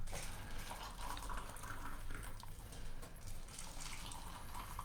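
Recently boiled hot water is poured to steep tea, a continuous splashing trickle with small gurgling bursts running for several seconds, moderately close and with no voices.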